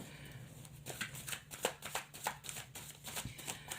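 Soft, rapid riffling of tarot cards being shuffled repeats in quick bursts, close and fairly quiet, with no talking.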